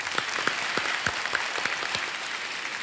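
On the KBC season 12 quiz show set, the studio audience claps to welcome a contestant, a lively, crisp and even round of many hands filling the hall.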